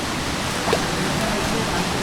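Loud, continuous rushing water roar of river whitewater rapids close by, broadband and steady, with a faint voice briefly underneath.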